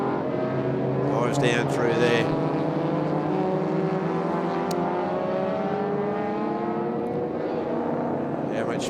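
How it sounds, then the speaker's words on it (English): A big Chevrolet V8 historic sports car in a Group S race at Winton thunders loudly past, its engine note rising and falling steadily as it goes by, with a commentator talking over it throughout. "Lets that big V8 go. Thunders past our commentary position, jumps onto the brakes for turn 3."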